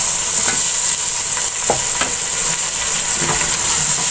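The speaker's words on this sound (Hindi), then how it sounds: "अब टमाटर को मैं थोड़ी देर भून लूंगी।" Tomatoes sizzle and fry in a pot for a chicken curry, with a steady hiss and scattered soft scrapes of a spoon stirring through them, close and continuous without talk.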